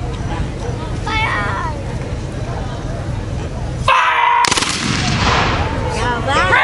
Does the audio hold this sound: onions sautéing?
no